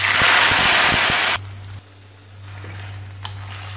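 Boiled vegetables, peas and raw jackfruit for a Chettinad kurma, drop into a tempering of cinnamon, fennel and curry leaves: a loud, bright, steady sizzle lasts over a second, then suddenly falls to a faint, low simmer with a small tap near the end.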